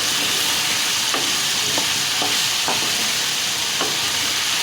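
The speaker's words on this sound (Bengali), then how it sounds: "এই যে আলুগুলোকে এখন ভেজে নিচ্ছি" Boiled potatoes fry in oil in a cooking pot, a loud, steady sizzle close by, punctuated by a few sharp scraping knocks of a spatula stirring them.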